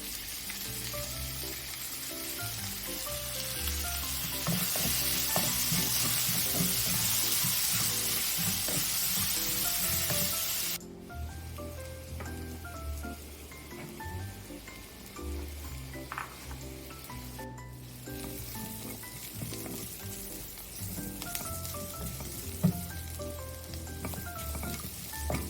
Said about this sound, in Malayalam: നന്നായി വഴറ്റിയ സവാളയിലേക്ക് കുറച്ച് നാളികേരക്കൊത്ത് ചേർത്ത് ഇളക്കുക.